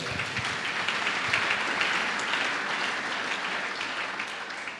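A church congregation applauds steadily during a French-language service, the dense clapping holding loud and even throughout with no break.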